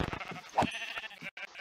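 Sheep bleating in the video game Minecraft, a short nasal bleat standing out over continuous background game sound and some talk.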